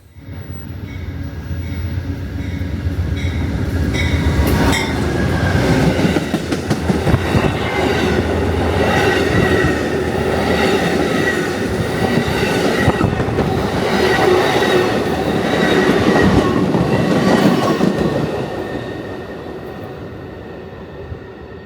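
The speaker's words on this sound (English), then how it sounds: "Amtrak PO80, the northbound Carolinian, passes through at 15:28 with" The northbound Amtrak Carolinian passenger train, led by a P42DC locomotive, passes close by in a loud sustained roar of rolling wheels and rattling cars, swelling and holding for most of the pass before fading at the end.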